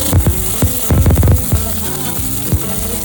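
Onions and chillies hit hot oil in a pan, loud close sizzling with sharp spitting crackles and scraping stirs in short bursts over a constant frying hiss, with no speech.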